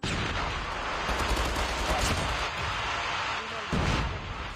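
Gunfire crackles in the Call of Duty Mobile video game, with dense bursts of shots and impacts, loud and continuous over the short span, and a heavier blast near the end.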